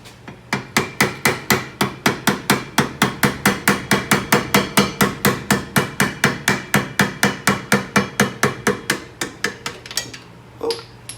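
Rapid, steady hammer taps strike a rusted rear brake rotor on a 2013 Kia Sportage, dozens of evenly spaced metallic blows close by, ending in a clatter as the loosened rotor drops to the floor.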